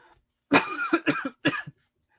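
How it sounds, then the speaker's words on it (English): Three to four short, harsh coughs in quick succession, close to the microphone, with no talking around them. "Apologies for the cough."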